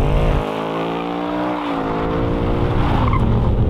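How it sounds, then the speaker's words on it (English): A 2018 Ford Mustang Bullitt limited edition does a burnout, its V8 engine roaring loud and close while the rear tires screech and squeal continuously, with the engine note rising and falling. "this car is fantastic at doing burnouts. In fact, let me cut to some footage of a burnout we did a little bit earlier"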